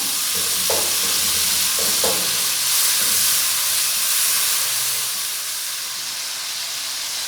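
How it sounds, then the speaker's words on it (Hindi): Tomato paste hits frying fish curry masala in a pan, giving a continuous hissing sizzle with a few light utensil clinks early on. The sizzle eases slightly toward the end. "अब हम इसमें जो है टमाटर पेस्ट डाल देंगे"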